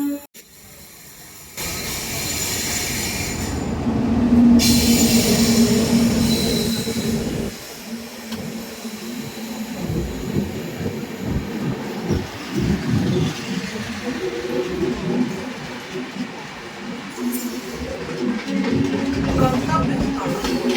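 The Falaknuma Express, Secunderabad–Howrah, rushes past on Indian rails with a loud swell of rumbling wheels, clattering coaches and squealing steel, lasting the whole stretch with rising and falling intensity.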